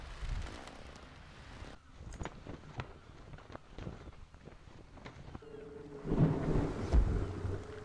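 Heavy thunder rolls over the sea in the video game Nantucket, a sailing-ship setting, with deep rumbling under steady rain that swells louder toward the end.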